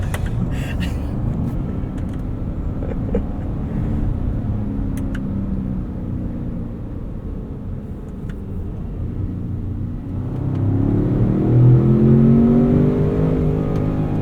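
A 2025 Ford Expedition Max Platinum engine rumbles steadily from inside the cabin, then swells into a louder, rising rev after a downshift, holding the higher note for a few seconds.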